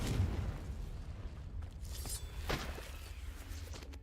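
A Confringo spell explodes in Hogwarts Legacy, a deep booming burst that rumbles at first and is followed by a few crackling pops and lighter impacts.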